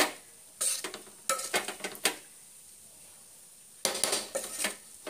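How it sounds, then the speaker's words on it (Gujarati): A spoon stirs through a pot of hot cooked rice in three short bursts of scraping and clinking against the metal, separated by quiet pauses. "ચમચો ફેરવી લો,"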